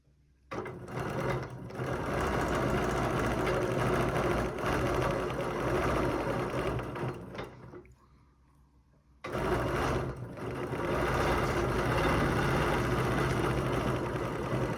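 A sewing machine stitches a quilt with a steady, loud continuous whir, pausing briefly near the middle before starting up again and running to the end.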